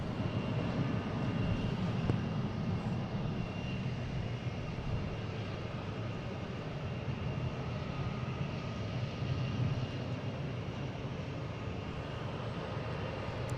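A WestJet airliner departs Boston Logan bound for Calgary, heard as a sustained, moderately distant jet engine roar with broadband rumble, holding steady throughout without talk.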